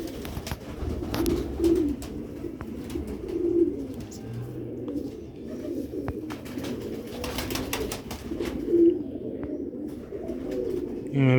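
Blue-eyed Sialkoti pigeons of an old pure breed coo repeatedly in soft, throaty phrases over a low background hum, with occasional louder calls.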